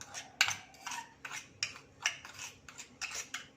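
A spoon scrapes and clinks against a dish while mixing chaat masala into sugar, a steady run of sharp, close metallic strokes repeating about every half second with no talk.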